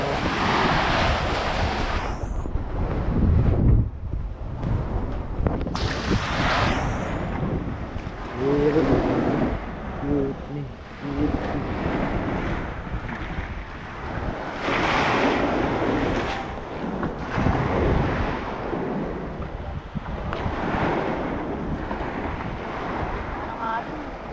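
Big sea waves crash and surge around a small fishing boat out at sea, loud rolling washes rising and falling through strong wind buffeting the microphone.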